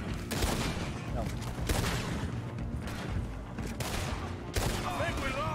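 Gunfire in Red Dead Redemption 2, a series of sharp shots spaced a second or so apart, loud against dense game noise, with someone talking now and then.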